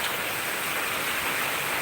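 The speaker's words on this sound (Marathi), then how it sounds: "बघ ना कसं पाऊस आला" Steady rain falling, a dense continuous hiss with no distinct drops, close and fairly loud throughout.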